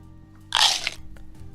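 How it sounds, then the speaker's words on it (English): A single sharp crunch of cartilage as a finger is bitten at an angle, a brief loud crackling burst followed by a few faint clicks, close and alone without talk. "you bite just the right angle, like if you go like this, what? You can get that weird sound. It's like a crunch between the cartilage."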